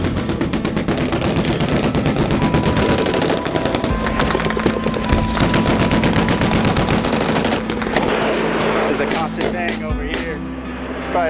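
Sustained small arms fire during a combat engagement with enemy troops at Wanat, rapid loud bursts of automatic gunfire crackling almost continuously, thinning toward the end.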